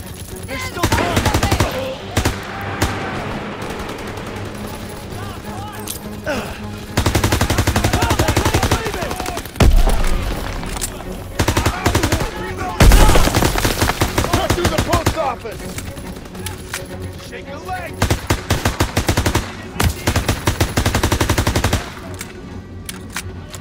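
Heavy gunfire in the Call of Duty WW2 S.O.E. mission on Veteran difficulty: loud, sustained automatic bursts and single shots crackle almost without pause, with battle clamour between volleys and no clear talk.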